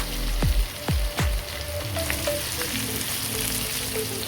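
Pork sizzles and fries in hot cooking oil in a pan with sautéed garlic for crispy adobo flakes, a steady loud crackle opening with a few sharp clanks of utensil against the pan.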